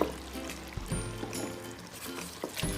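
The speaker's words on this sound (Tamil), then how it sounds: "இப்போ தயிரே ஊற்றிடுங்க." Yogurt poured over chicken with curry leaves and coriander for Madurai chicken dum biryani, a soft close glugging pour with light splatters lasting a few seconds.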